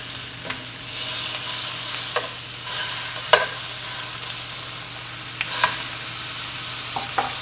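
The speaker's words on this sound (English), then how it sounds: "I'm going to add the ground beef and these sausage links and just start crumbling them up." Ground beef and sausage links frying and being crumbled in a pan, a steady close sizzle broken by sharp scraping stirs and utensil taps every second or two, with no talking.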